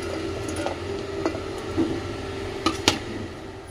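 Potatoes for homemade French fries tumble into a cooking pot with a handful of soft, squishy thuds and light clatters, fairly faint and scattered, with no talking.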